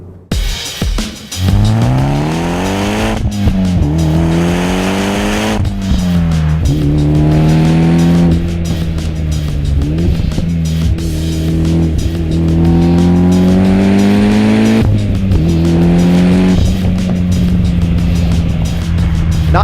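A tuned Mitsubishi EVO X on a road test, its engine loud and close as it accelerates hard through repeated rising revs, with brief dips between gear changes and a steady drone throughout.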